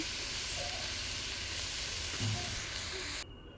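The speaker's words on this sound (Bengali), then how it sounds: "এদিকে নাড়াচাড়া করতে হবে লাগাটা হালতলায় লেগে যাবে তার জন্য আমি নাড়াচাড়া করছি" Vegetable fry with bay leaf sizzles steadily in a pan while being stirred, a continuous close frying hiss with faint scraping, no talk.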